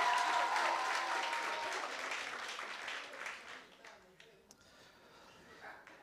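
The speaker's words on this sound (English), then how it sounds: "Please, can we give a round of applause?" Applause from a workshop audience at a business pitching event in Umlazi, a dense roar of clapping that starts loud and gradually thins and fades over several seconds, with some voices mixed in.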